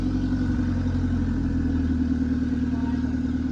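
A Fox Body Ford Mustang engine idles loudly and steadily close by, a continuous low throbbing rumble with a faint clatter.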